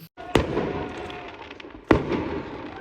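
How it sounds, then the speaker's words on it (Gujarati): Two loud New Year firecracker bangs about a second and a half apart, each followed by a short ringing echo, with quiet background in between. "ભાઈ ન્યૂ યરના ફટાકડા ચાલુ કરી દીધા અત્યારથી"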